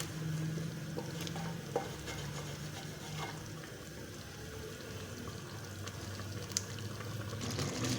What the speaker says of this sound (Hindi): इसको हम अच्छी तरह से नॉर्मल आंच पर भून लेंगे 4 से 5 मिनट।